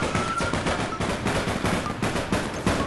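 Rapid automatic gunfire from the online shooter APB Reloaded, dense overlapping bursts of shots running continuously near and loud throughout, with a faint voice barely in the mix.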